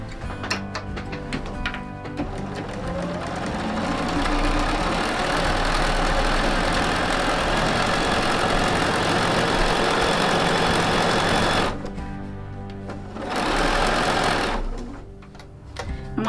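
A sewing machine with a seam guide stitches quilt sashing in a long steady whirring run, stops briefly, then runs again in a shorter burst, close and fairly loud with no talking.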